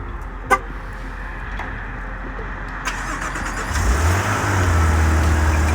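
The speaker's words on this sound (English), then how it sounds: "And that will remote start your car." A Maserati's engine starting by remote start: a short chirp-like toot first, then a few quiet seconds before the engine catches and settles into a steady low idle rumble up close.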